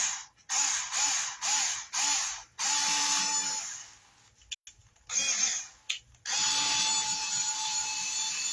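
A power drill or driver runs in repeated short bursts while driving a screw for a picture hanger on a cross picture. The whirring comes close and loud, in several quick pulses followed by longer steady runs.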